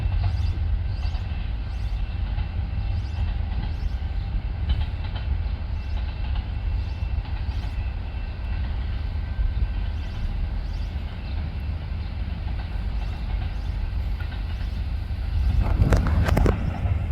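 A freight train with a DPU locomotive rolls past a backyard in a loud, continuous low rumble with faint rhythmic wheel clatter, swelling louder near the end as the locomotive passes.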